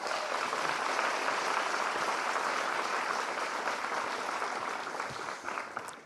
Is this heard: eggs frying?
no